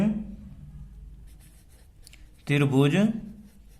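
Chalk or marker scratching briefly on a board during a Class 7 maths lesson on triangles, faint and close, with a teacher talking before and after.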